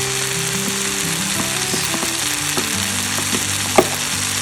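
Sliced okra and tomato sizzle steadily as they sauté in a pan, with a spoon scraping and clacking against the metal through the frying, and one sharper knock near the end.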